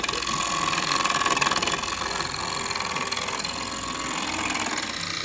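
A bowl gouge cuts the outside of a blue mahogany bowl spinning on a wood lathe, giving a steady, close, hissing scrape over the hum of the running machine.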